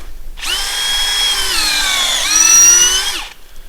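A power drill bores a tap hole into a tree trunk with a steady high whine lasting about three seconds, which dips briefly in pitch partway through before it stops. The drill is close and loud, with no talk.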